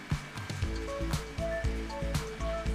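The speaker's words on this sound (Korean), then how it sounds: "동굴 깊숙한 곳에서 들리는 물소리." Groundwater deep inside a cave in an old mine trickles and drips, giving hollow, echoing plops in an irregular rhythm over a constant low watery rush.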